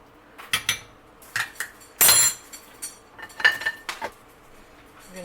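A spoon scoops and scrapes along the bottom of a cooking pot of keto birria, making a run of distinct metallic clinks and scrapes, one longer grating scrape near the middle, fairly close and with no talk.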